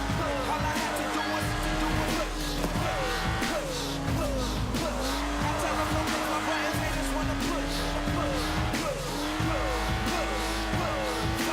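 A car in the racing game Forza Horizon 4 drives with a steady engine tone while its tyres squeal and skid through corners, continuous and fairly loud throughout.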